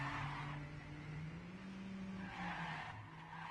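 A car in a racing video game drives along, with a faint, steady engine drone and brief tire squeals that swell and fade, heard alone without voices.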